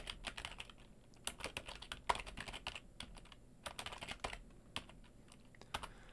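Rapid, uneven keystrokes on a computer keyboard as a file name is typed, close and clear with short bursts and brief pauses over a quiet background.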